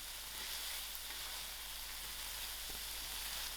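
Fried soya prawns sizzle in a pan with a soft, even hiss, faint and unbroken throughout, with no talking.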